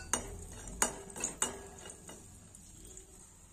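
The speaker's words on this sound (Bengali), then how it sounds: "বড়িগুলো আমি ভেজে নেব।" Bori lentil dumplings fry quietly in a pan for karela shukto, with a few distinct spatula scrapes and clinks against the metal over a faint low sizzle.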